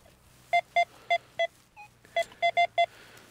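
Metal detector sweeping a quiet farm field gives a run of short, clear electronic beeps, four evenly spaced, a brief softer tone, then five more in a quick burst, close and distinct.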